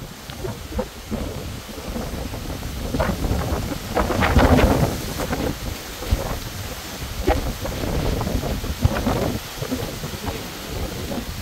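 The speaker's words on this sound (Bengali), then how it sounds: "কি পরিমাণ বাতাস, মানে বলার ভাষাই নেই, এত পরিমাণ বাতাস।" Strong wind roaring and buffeting the microphone continuously while a DJI Air 3S drone is flown, with gusts rising and falling and no speech.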